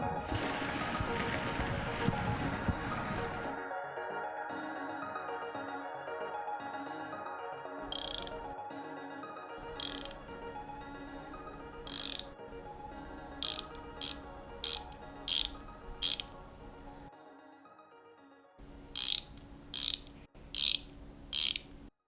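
A ratchet clicks in short bursts while undoing bolts on the sunroof of a BMW E36, the quick pawl runs recurring in separate spurts with short pauses between them, close and fairly clear, with no talk over it.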